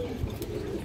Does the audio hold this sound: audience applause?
no